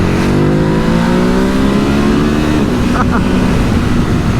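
A Ducati Hypermotard 950SP motorcycle accelerates hard to overtake, its loud, close engine note rising steadily in pitch, heard from the rider's position over constant wind rush.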